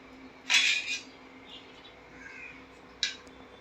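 A spoon stirring rice in a pot for sweet coconut rice (narali bhaat) gives two sharp metallic clinks, one early and one near the end, against a quiet background with a faint stove hum.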